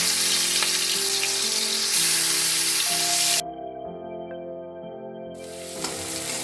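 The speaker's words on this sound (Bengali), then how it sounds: "তেলটা গরম হয়ে গেছে, চিংড়ি মাছগুলো দিয়ে দিচ্ছি।" Prawns hit hot mustard oil in a wok with a loud, dense sizzle that fills the opening seconds, then cut out abruptly to a quieter bubbling with a steady tone before the crackle swells again.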